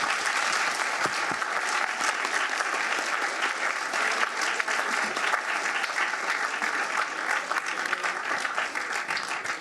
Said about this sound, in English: let's give another round of applause for all the debaters